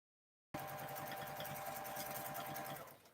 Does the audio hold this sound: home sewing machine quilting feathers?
yes